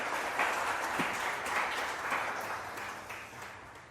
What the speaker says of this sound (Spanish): ¿Por qué no le da un aplauso grande a Jesús,